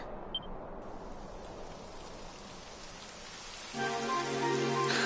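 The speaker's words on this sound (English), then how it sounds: "It would have to go and start raining, wouldn't it?" Steady rain in the video game Dragon Quest XI patters down continuously, a broad hiss of drops on surfaces, swelling louder and denser near the end as a tonal hum joins in.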